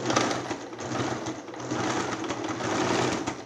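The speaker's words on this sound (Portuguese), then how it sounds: "passa a costura com meio centímetro nessa parte" A sewing machine runs steadily at close range, stitching a half-centimetre seam on a zippered cushion cover, its rapid needle rattle continuous with slight shifts in pace and no voices.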